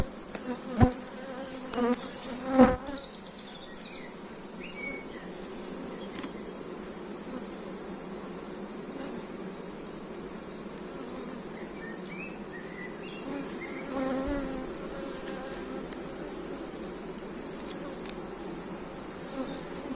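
Honey bees hum in a dense, steady drone around an open hive, close and continuous, with a couple of louder knocks near the start and faint birdsong in the background.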